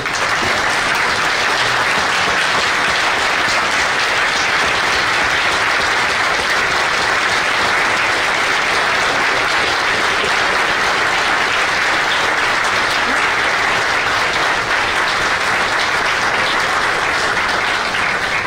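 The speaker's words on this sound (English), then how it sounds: "I want everyone to please stand up and give him another round of applause, please." Sustained, dense applause from a large audience at the NYPD Scholarship Dinner in New York City, steady and loud throughout with no break and no talk over it.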